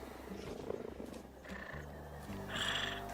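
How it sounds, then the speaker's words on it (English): Zoo big cat purring in Planet Zoo, a desert zoo in franchise mode, with low rumbling purrs and a roar-like swell over ambient park sounds, moderately quiet and close. "The sounds they make."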